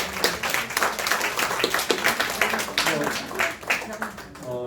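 A church congregation claps in appreciation, steady dense applause filling the room while a voice speaks over it, fading toward the end.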